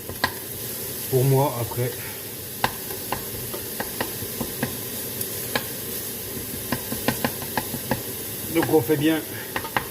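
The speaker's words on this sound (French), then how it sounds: "Voilà, ça rissole bien." Bolognese meat browning in oil in a pan, a steady low sizzle close by with scattered clicks of stirring, while a voice talks briefly over it.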